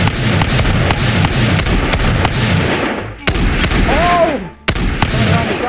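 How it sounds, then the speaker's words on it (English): Rapid bursts of machine gun fire in the battle game TABS, loud and dense, with booms and thumps continuing throughout and a couple of sharp cutoffs. "It's like a rapid fire machine gun here."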